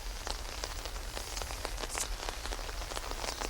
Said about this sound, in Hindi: अभी जो बारिश हो रही है